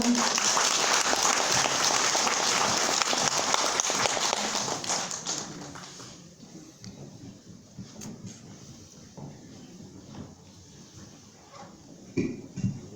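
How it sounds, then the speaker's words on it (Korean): An audience at a music festival opening applauds before a poetry recitation, dense clapping that holds steady for about five seconds and then fades out into a quiet room with scattered thumps and light noises. "여러분 큰 박수 소리 마련해 주시죠"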